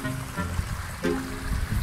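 Water running from an opened tap, a steady close splashing stream with gurgling fluctuations and a brief shift midway, moderately loud and uninterrupted.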